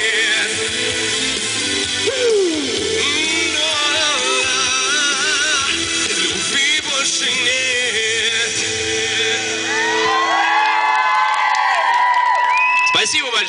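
A crowd at an outdoor city-day concert in Znamenka shouts and cheers loudly and continuously, chanting a song line in unison with a singer, with a person speaking over it on stage.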